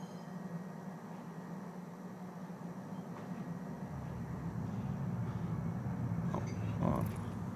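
Train pulling into a spaceport in the video game Star Citizen, a steady low rumble that swells and grows louder midway, with faint metallic clicks near the end.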